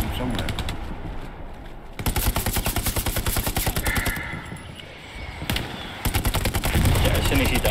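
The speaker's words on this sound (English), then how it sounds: "I'm getting shots from somewhere." Bursts of gunfire in the World War II shooter Hell Let Loose, with rapid repeated shots and faster automatic strings, some close and some farther off, heard alongside speech.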